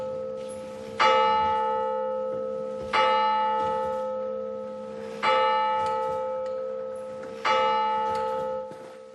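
A church-style bell rings for last bell, sounding four slow, evenly spaced strokes whose resonant tone fades between hits, loud and alone.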